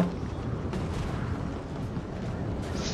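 Musket and cannon volleys fire on an Empire: Total War battlefield, a dense rolling crackle and rumble at steady loudness across the whole stretch.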